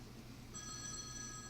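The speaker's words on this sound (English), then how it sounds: "Excuse my phone, it's a business call" A telephone rings steadily during a business call, its electronic ring tone sounding over a soft background hiss, close and moderately loud, with no talking heard.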